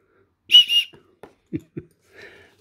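A survival kit whistle from an everyday-carry kit is blown in two short, shrill blasts, followed by faint handling clicks and a softer, breathy whistle tone near the end.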